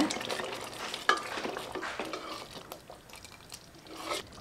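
Paneer butter gravy bubbles and sizzles gently in a pot while a spoon stirs and scrapes, with occasional light clinks against the metal.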